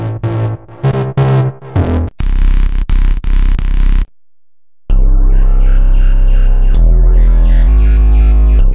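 Music loops previewed one after another in Soundation online audio software, short distorted electronic clips with abrupt starts and cuts, a brief silence, then a loud sustained synth loop.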